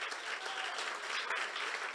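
A church congregation claps steadily, a dense, continuous wash of applause that stays loud and even throughout.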